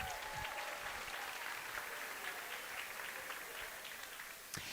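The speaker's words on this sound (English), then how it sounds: "Let's give them a round of applause" A crowd of competitors applauds the judges at a national jigsaw puzzle championship, a steady, soft wash of clapping that stays even throughout and fades slightly near the end.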